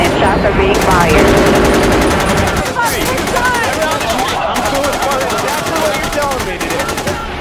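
Heavily armed bank robbers in a 1997 shootout with police, loud rapid automatic gunfire in long bursts and scattered shots, sharp and close, with voices mixed in among the firing.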